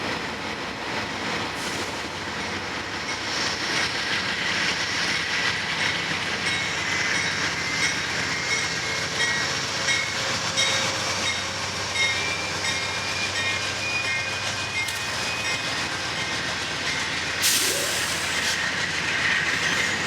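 A train rolls past steadily with rumbling and clattering wheels and a brief high metallic squeal near the end; no voices.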